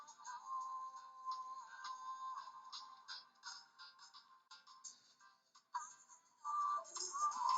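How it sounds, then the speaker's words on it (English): A phone rings with repeated electronic ringtone bursts in an irregular pattern, faint and somewhat distant, with a louder burst near the end and no talking. "Hold on, the phone is ringing."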